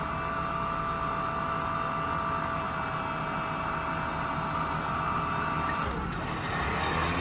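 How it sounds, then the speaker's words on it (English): Electric-over-hydraulic 6k crane hoist lowering on a 2018 Ford F-450 6.7 diesel with an AutoCrane Titan bed: a steady, loud mechanical whine and hum running continuously, shifting slightly near the end. "Let that hoist down a little bit more, throw the boom out."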